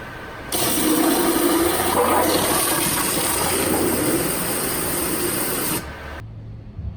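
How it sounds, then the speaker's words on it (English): A high-pressure water jet cutter slices through a block of silly putty, giving a loud, steady hissing spray that runs for about five seconds and then cuts off. "now we're going to water jet some silly putty into something"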